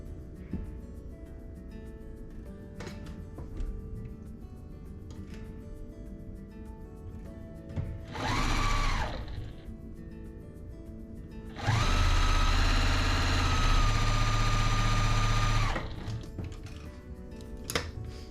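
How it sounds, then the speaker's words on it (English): A sewing machine whirs as it stitches pre-cut quilt kit pieces together, first a short burst and then a longer steady run of about four seconds, close and loud against a quieter background of handling noise. "We have that one, and we'll sew these two together."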